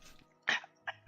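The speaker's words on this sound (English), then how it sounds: "What is that coughing coming from?" A few short, fairly quiet coughs indoors, separated by brief pauses, with soft background sound between them.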